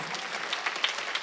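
A church congregation applauding during a Sunday service: a short burst of steady, dense clapping from many hands in a room, with no talking over it.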